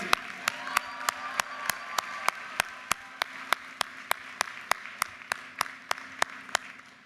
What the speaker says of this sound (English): How about another round of applause for the families?